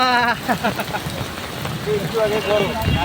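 Steady rain patters and hisses on a surface while voices talk loudly over it close by.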